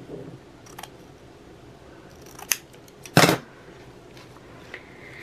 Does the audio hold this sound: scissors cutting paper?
yes